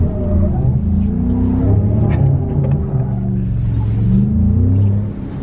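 A 2018 Ford Raptor truck engine revs hard and roars steadily while drifting through snow, loud and close, easing off at the very end.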